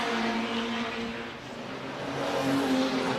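The Liquid Moly racing car sends a loud, sustained engine drone along the circuit, its pitch rising and falling as it passes among other race cars.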